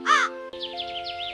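A cartoon crow gives one short, loud, nasal caw, followed by softer warbling bird-like tones over a sustained musical background.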